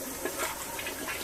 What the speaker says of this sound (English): So I'm going to flush it.